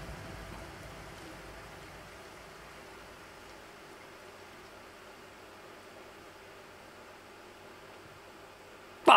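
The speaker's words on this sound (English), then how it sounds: "And then the rain." Steady rain hiss within a song mix, a soft continuous wash with no clear music beats, fading out before a sudden loud burst at the very end.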